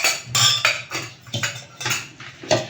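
A breakfast batter of curd is mixed by hand in a bowl, with repeated rhythmic clinks and scrapes of a utensil against the bowl, close and clear, no talking.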